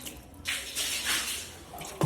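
Water scooped out of a faulty Samsung washing machine and thrown away, irregular splashing and sloshing bursts with a sharper splash at the end, close and moderately loud, no voices.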